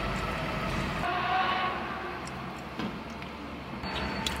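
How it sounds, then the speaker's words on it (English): A train passes by on the tracks near a parked car, a broad steady rumble with rattling wheels and a faint distant horn, continuous and fairly loud throughout. "So now the train is coming."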